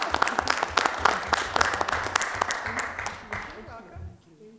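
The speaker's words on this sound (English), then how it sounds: "We can keep clapping." Audience applause at a city council meeting, many hands clapping with sharp individual claps standing out, then tapering off and fading to near silence at the end.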